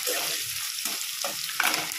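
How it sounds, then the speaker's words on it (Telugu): Chopped onion and green chillies frying in a pan for semiya upma, a close, bright sizzle with a few louder bursts as the pieces are moved about, no voices. "ఫ్రై అయ్యే వరకు వేపుకోవాలి మనం"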